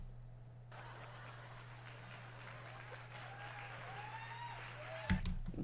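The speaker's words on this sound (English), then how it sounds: "Why are people clapping?" Canned laugh-track applause plays steadily at a moderate level under a low electrical hum, with faint gobbling, bird-like chirps rising over it and a sharp louder burst near the end.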